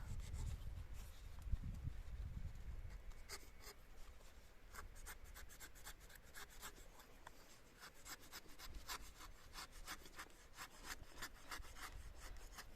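A blade scrapes and rasps against walnut graft wood in quick repeated strokes, close and quiet, with some low handling noise at the start.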